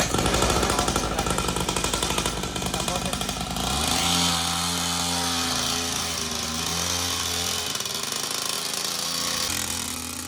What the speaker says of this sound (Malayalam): ഇവിടെ ഒരാള് ബൈക്ക് എടുത്ത് ഒന്ന് ഓടിക്കാൻ വേണ്ടി പോയിണ്